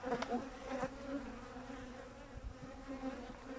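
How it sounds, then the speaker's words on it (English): Bees buzz around an opened beehive, a faint, close humming drone with a few louder passing buzzes early on, steady throughout. "I'm just raising the edges up where I think there may be trapped bees in here"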